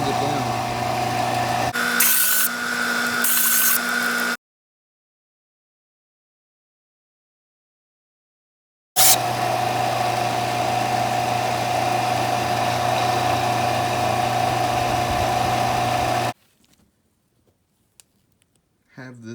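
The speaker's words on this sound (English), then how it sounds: "All you need to do is just sand it down." A power sander works over a dark resin pinecone pendant, a steady mid-pitched motor whir in two long stretches broken by a silent gap, fairly close and loud.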